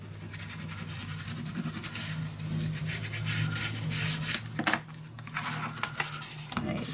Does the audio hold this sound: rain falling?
no